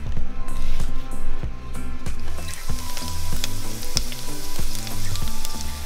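Garlic, chili and herbs frying in a pan, a loud, steady close sizzle with some stirring noise throughout.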